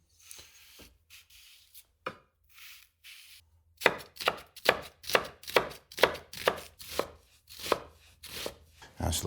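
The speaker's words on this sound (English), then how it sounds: "I need to go ahead and mince some more onion" A knife mincing onion on a cutting board, starting with a few scattered cuts, then a quick, regular run of sharp chopping knocks, close up and clear, without voices.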